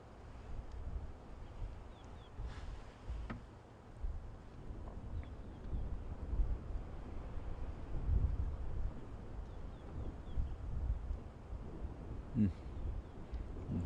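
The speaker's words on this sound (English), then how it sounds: "as this wind starts to pick up." Wind gusting across open bush on a morning safari drive near grazing zebras and impala, a low broadband rumble and microphone buffeting that swells and eases steadily throughout.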